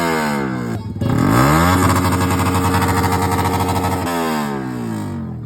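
A motorcycle engine revs hard at a motor show in Sapi-an, a loud, buzzing roar that dips briefly near the start, then holds high and steady with rapid pulsing before easing off at the end.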